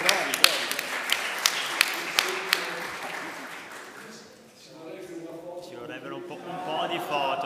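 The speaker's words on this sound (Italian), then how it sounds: "credo che se volete potete anche fare un applauso" Audience applause at a live talk on political communication, with several sharp claps standing out near the start before the clapping thins and blends into a murmur of voices and a speaking voice toward the end.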